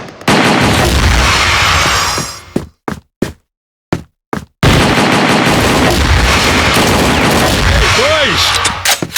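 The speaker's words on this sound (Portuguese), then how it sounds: "Toma essa granada aí!" Grenade blasts and heavy gunfire roar in a shooter video game, dense loud bursts that stop for a moment of near silence with a few isolated shots, then resume; a voice shouts faintly under the noise.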